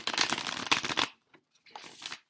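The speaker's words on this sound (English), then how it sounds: "These cards are hard to shuffle because I barely ever use them." A seldom-used, stiff deck of playing cards is shuffled by hand, a quick riffling burst followed by a brief pause and a second shorter ruffle, close and clear.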